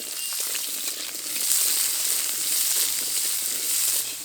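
Hog plums (amra) fry in oil with panch phoron and slit green chilies, giving a steady, fairly loud, close sizzle with a dense crackle that swells slightly midway and continues without pause.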